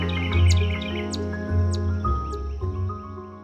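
Chipmunks chirp in a cottage garden among the foliage, giving a few short, high, bright calls over a soft steady background.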